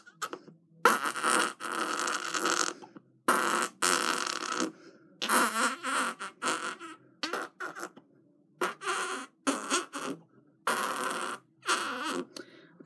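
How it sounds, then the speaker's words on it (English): Armpit farts, a series of about a dozen short squelchy bursts in an uneven rhythm, close and fairly loud, with silent gaps between them. "that is my favourite armpit fart"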